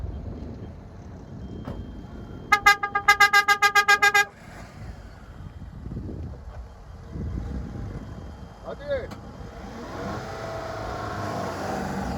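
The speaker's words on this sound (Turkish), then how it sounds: "Bekle ben kornaya basınca sen başla." A car horn sounds in a rapid series of short toots from a Tofaş Şahin or Fiat Egea, followed by engines revving and cars pulling away as voices talk outdoors.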